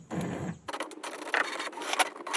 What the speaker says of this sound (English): Okay, it's going to print the sheet.